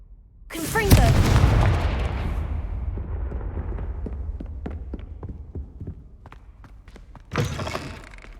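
A Confringo fire spell cast in Hogwarts Legacy bursts with a loud booming blast, then crackles and fades over sparse ringing hits before a second burst at the end.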